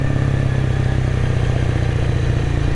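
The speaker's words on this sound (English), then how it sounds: "I'm on a Honda CBR 250R" A Honda CBR 250R motorcycle engine idles steadily nearby, a constant low throbbing rumble with a faint mechanical rattle and no voices.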